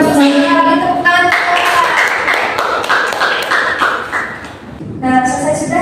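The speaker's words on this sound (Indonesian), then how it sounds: "Tepuk tangan" A classroom group of students claps together in a quick burst between stretches of voices during a lesson, with rhythmic hand claps and sharp taps.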